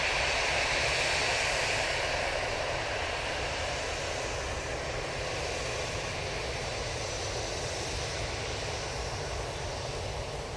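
An easyJet airliner comes in to land at Manchester Airport, its engines giving a steady, loud broadband roar that holds evenly throughout with no voices.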